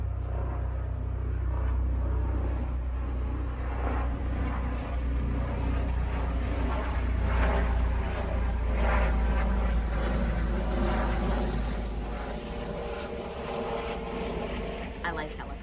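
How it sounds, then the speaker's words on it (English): A helicopter passes overhead outdoors, its deep rotor and engine drone rumbling steadily and fairly loud for the whole stretch, slowly fading slightly near the end, while a person talks over it. "It's a helicopter."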